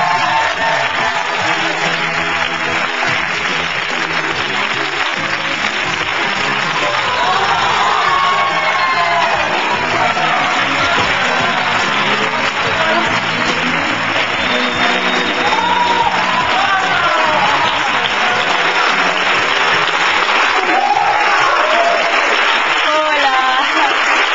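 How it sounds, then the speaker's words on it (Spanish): A television studio audience greets actress Danna García with loud sustained applause, cheering and whoops, a dense continuous roar of clapping and shouts lasting the whole stretch at close range. "Un aplauso grandísimo para Dana García."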